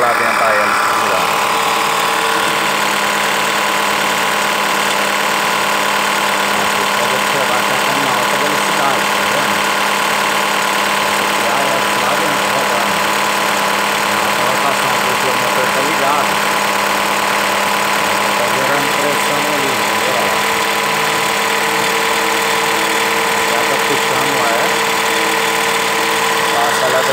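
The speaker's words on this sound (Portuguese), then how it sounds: "Essa aqui, ó, é a entrada da turbina, olha lá dentro da hélice girando." The turbocharger of a Jeep Compass T270 1.3 turbo flex engine runs at a steady idle with a constant loud whine and engine drone close by, unchanging throughout.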